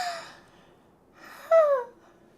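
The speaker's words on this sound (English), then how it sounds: "Oh, that turned into a real yawn." A video game character yawns, beginning with a soft breathy intake, a short pause, then a louder drawn-out vocal yawn that trails off, heard alone.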